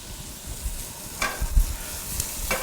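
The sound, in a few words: mushrooms sizzling hot in a pan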